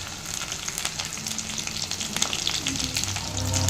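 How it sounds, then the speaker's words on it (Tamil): Garlic and quartered tomato sautéing in oil give a close, lively sizzle with soft stirring scrapes, lasting a few seconds without pause. "அது கூட ஒரு தக்காளியை 4 கட் பண்ணி சேர்த்துக்கலாங்க."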